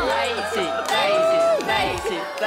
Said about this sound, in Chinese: 你们不要起哄了